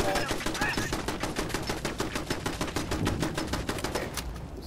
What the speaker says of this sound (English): The powerful gunfire is doing that.